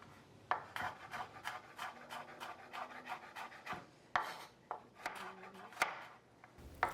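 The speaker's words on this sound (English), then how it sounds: "chop up the onion and the garlic" A kitchen knife chops onion and garlic on a board in a quick, steady run of close, crisp taps, with brief pauses between bursts and no talking.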